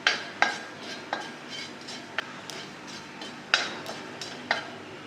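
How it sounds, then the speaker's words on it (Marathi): Poppy seeds dry-roasting in a kadhai for a modak filling while a spoon stirs them, giving soft scraping strokes and light clicks in an irregular rhythm, fairly quiet and close, with no talking. "आपण अगोदर ही खसखस भाजून घेऊ"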